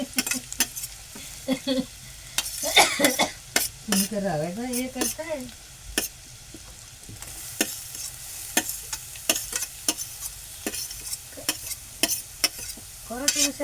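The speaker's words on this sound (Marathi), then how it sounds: "तुपावर चांगला परतून घेऊया रवा ए गाजर" Semolina and grated carrot are stir-fried in ghee for carrot halwa: a close sizzle runs under sharp, irregular scrapes and taps of a spoon against the pan, and a voice sounds briefly partway through.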